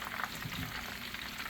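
Coconut shrimp tempura fries in hot oil, a dense continuous crackle and hiss that stays even and close throughout, with no talking.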